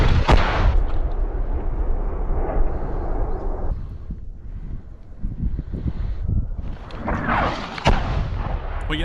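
Sharp booming artillery blasts with a rushing, wind-buffeted roar between them, heavy explosions nearby and shells whistling overhead, in the war in Ukraine.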